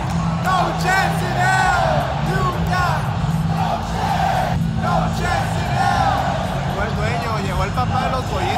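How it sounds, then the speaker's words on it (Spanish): Massive WrestleMania Night 2 arena crowd roaring and chanting in an ovation for the Undertaker, a dense sustained wall of cheers and yells with shouted voices rising throughout. "Escucha la ovación para el hombre muerto."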